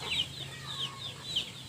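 Free-range Indonesian village chickens on a small home farm cluck in three short, scratchy bursts at a steady pace, moderately near, over low background noise with no voices.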